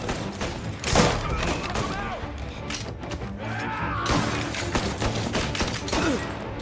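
Gunfire in the video game Mafia: Definitive Edition: a rapid series of sharp shots and thuds, loud and close, mixed with raised voices throughout.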